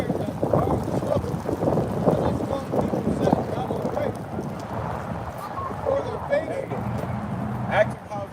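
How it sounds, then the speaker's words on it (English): Gusty wind buffeting an outdoor microphone at a live street gathering in Tampa, Florida, a loud, continuous low rumble with surges, with a voice faintly present beneath it. "It's so windy today."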